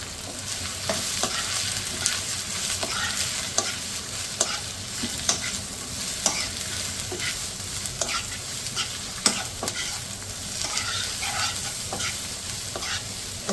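Onion, carrot, cabbage and green and red bell pepper stir-fry with garlic in a hot pan for chow mein, giving a steady close sizzle broken by regular sharp scrapes and clacks of a stirring utensil.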